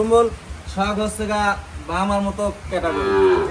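Pakistani cattle moo in long, low, resonant calls that overlap with a person talking close by, the lowing rising and falling through the whole short stretch.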